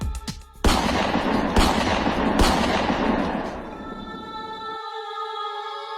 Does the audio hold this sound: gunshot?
yes